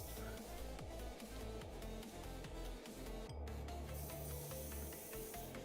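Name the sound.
spraying insignia white paint on a model kit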